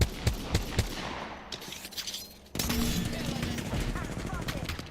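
Rapid bursts of gunfire in a first-person shooter game, sharp cracks clustering early then giving way to a denser, continuous clatter of firefight noise, with game voice lines mixed in.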